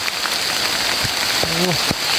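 Rain falls steadily in a forest in Thailand during mushroom foraging, a continuous soft patter with a few short sharper sounds and one brief tonal call rising above the wash.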